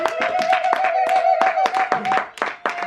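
A church congregation claps in a quick, uneven rhythm over about three seconds, with a sustained sung or hummed tone running beneath the hand claps.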